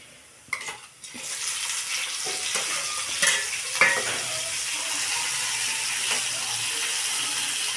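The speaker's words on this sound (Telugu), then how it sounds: "ఇప్పుడైతే టమాటాలు అయితే వేసుకుంటున్నాను" Tomatoes sizzle and fry in a pan while a utensil stirs and scrapes them, giving a steady close hiss broken by several sharp clanks and scraping strokes.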